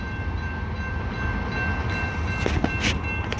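A Union Pacific intermodal train rolls past a road crossing as a steady, close rumble of railcars, with faint clicking and a brief higher-pitched squeal rising near the end.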